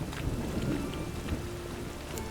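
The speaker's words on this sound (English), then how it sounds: "A storm, damn it." A thunderstorm in the video game The Witcher 3: steady rain hisses over a low rolling rumble of thunder, a continuous dense wash of weather sound with no voices.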